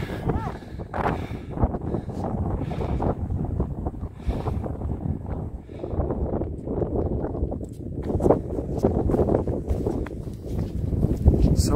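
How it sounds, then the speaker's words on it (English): Strong wind gusts over a high mountain fell on a hike, a steady rough roar that runs through the whole stretch along with footsteps and voices. "Hope you can hear us because of the wind. It's pretty strong up here."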